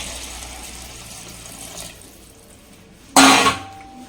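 Water poured into a pot of rice: a brief, loud splashing gush lasting about half a second near the end, after a low background hiss.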